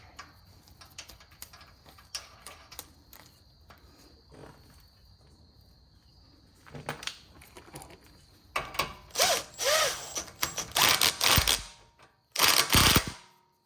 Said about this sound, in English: Then we're gonna go ahead and torque this layer.